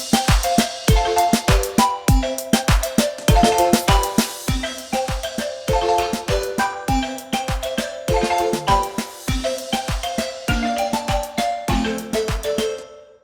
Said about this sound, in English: Like if we bring in a drum loop.